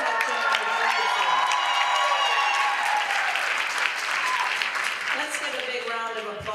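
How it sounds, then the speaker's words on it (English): Conference audience bursts into sustained, dense applause with scattered cheers, loud and steady throughout, honoring Main Street program pioneers at a downtown revitalization gathering. "Let's give a big round of applause for these outstanding Main Street pioneers"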